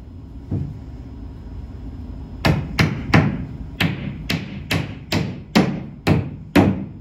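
A hammer pounds a sheet of plywood flat, striking about nine sharp, loud blows in an uneven rhythm after a quiet stretch with a faint thud, close by with no talking.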